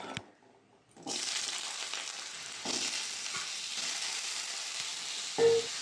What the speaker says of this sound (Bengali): কড়াই তেল দিয়ে দিয়েছি আলুটা দিয়ে দেবো